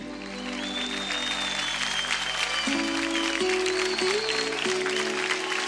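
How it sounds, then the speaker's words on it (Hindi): On a children's dance competition elimination show, the audience claps loudly and continuously beneath a swelling musical sting with stepped sustained tones. "एक बार जोरदार तालियां"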